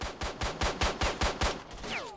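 Rapid automatic gunfire in the video game S.T.A.L.K.E.R. at a zombie: about eight evenly spaced shots in a steady rhythm, close and alone, followed by a short trailing ring.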